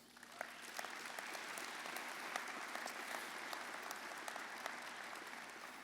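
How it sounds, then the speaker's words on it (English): An audience at a law school commencement ceremony applauds steadily, a dense, fairly distant wash of many hands clapping that holds for several seconds with no speech over it. "So a round of applause for those folks."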